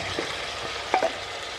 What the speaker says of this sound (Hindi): अब दोनों चीज़ को तेज फ्लेम पर 3-4 मिनट तक अच्छी तरह से भून